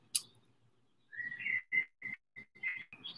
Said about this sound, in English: are those real bird sounds?